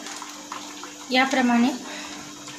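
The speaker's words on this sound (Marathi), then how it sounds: "काढून आपण या जाळीमध्ये पाणी निथरवायला ठेवणार आहोत" Sliced potato chips are lifted out of water into a mesh strainer, making a brief splashing, dripping rush of water in the middle, with a person talking around it.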